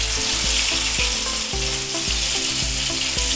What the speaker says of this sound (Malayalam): സ്റ്റീമിൽ പുഴുങ്ങി വെച്ചേക്കണ ചിക്കൻ വറുക്കാനിടാം